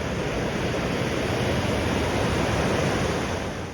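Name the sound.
river flowing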